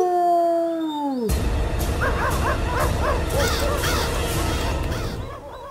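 A cartoon fox lets out a long howl that slides downward in pitch. A noisy burst follows, with rough, barking-like animal calls and commotion in a children's animated story.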